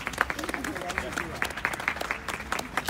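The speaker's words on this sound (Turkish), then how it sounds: "Evet, arkadaşımız bir alkışlayalım arkadaşlar." Applause from an audience in Kars, fairly faint, with sharp individual claps standing out in an uneven rhythm over a soft background of voices.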